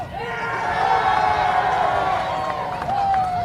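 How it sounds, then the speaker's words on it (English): A softball crowd at a high school state tournament quarterfinal roars and cheers as a fan catches a foul ball in the bleachers, a sustained loud swell of voices with a commentator speaking over it. "That cheer you heard was from a fan catching the ball in the bleachers."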